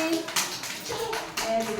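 Children clapping their hands during a classroom counting activity, a few sharp scattered claps amid children's voices talking in the background.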